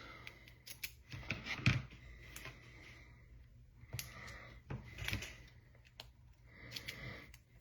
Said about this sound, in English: cut off some thin pieces of our 1/16 iCraft 3D foam tape in white